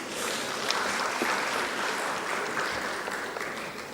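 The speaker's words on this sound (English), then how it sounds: "can we give them a round of applause?" A conference audience at an African civil society meeting on anti-money laundering gives a round of applause, a brief, steady wash of many hands clapping at moderate volume.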